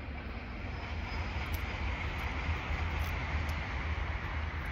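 A steady, loud rumbling roar of a passing train fills the whole clip, broad and continuous without any clear change.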